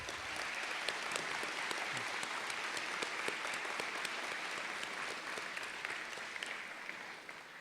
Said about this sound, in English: give them a round of applause real quick as well